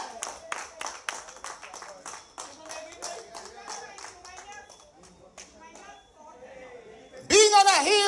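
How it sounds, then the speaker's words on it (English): Hands clap in a quick, fairly rhythmic run at a public political meeting, sharp and close. Then the clapping thins out as voices talk, before a sudden loud shout or cheer bursts in at the end. "Let's give him a round of applause."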